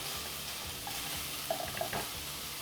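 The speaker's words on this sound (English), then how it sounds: "So I've got my pan heating up here, no oil. Just gonna put some onions in here." Onions cooking in a dry, oil-free pan over medium heat, a faint, even sizzle with a couple of small pops and stirring touches, no talking.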